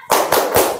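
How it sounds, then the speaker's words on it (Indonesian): A group performing a tepuk semangat spirit clap in a classroom session, heard as a short burst of loud, dense, near-simultaneous claps in three quick pulses. "Oke, tepuk semangat."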